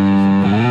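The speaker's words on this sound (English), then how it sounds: "It's real high and thin distortion when you get this turned up." Bass played through an EBS Billy Sheehan signature drive pedal with the distortion turned up and the clean blend all the way down, giving a loud, high, thin buzzing tone sustained on a held note with harmonics wavering near the end.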